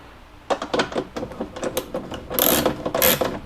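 A hand ratchet tightens the taillight bolts on a Mitsubishi Evo X, giving a close, steady run of rapid clicking pawl strokes that turns faster and denser toward the end.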